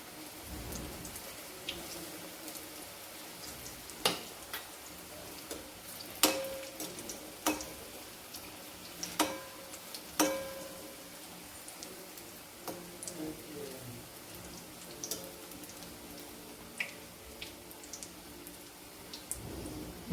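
Onion bhaji batter fries in hot oil over a low flame, a soft continuous sizzle with scattered crackles and pops, fairly quiet and close.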